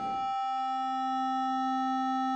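A synthesized sine wave in Kyma driven into wavefolding: a steady, sustained electronic tone whose bright overtones fill in after a brief low burst at the start, holding evenly throughout with no speech.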